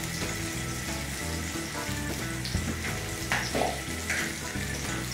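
Onions sizzle in a pan with a steady crackling hiss, a low background hum and a few faint clinks of a utensil against metal. No speech is heard.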